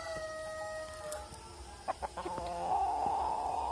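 Village rooster clucks in short, close bursts near the middle, followed by a rising crowing call, over faint rural background hum.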